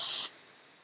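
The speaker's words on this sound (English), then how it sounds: "So I'm going to spray it." Oribe Gold Lust dry shampoo is sprayed from an aerosol can in one loud, close burst of hiss lasting about a quarter second, then it cuts off sharply into quiet.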